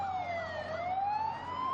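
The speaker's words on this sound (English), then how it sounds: "It seems that every single ambulance in the area has been mobilized." Ambulance siren wailing outside a hospital in Bethlehem after a massacre, a loud continuous rising-and-falling tone with harmonics over steady traffic rumble, no voices.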